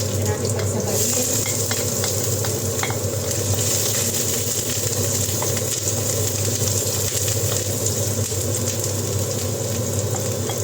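Garlic is stir-fried in cooking oil in a pan, giving a continuous loud sizzle with scraping stirs throughout and no talk.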